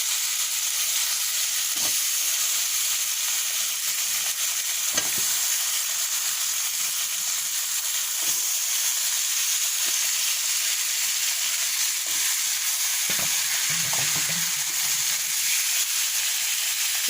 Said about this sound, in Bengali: এখন আমি চিকেনগুলো দিয়ে দেবো